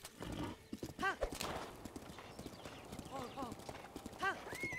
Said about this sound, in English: Here comes Jack, my trusty steed.